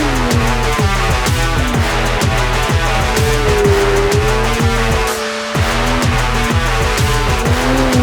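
A Porsche drifts in circles on a track with its engine revving hard in steady, rhythmic pulses and its tires squealing loudly and continuously. The sound is close and stays loud throughout, with one brief dip near the end.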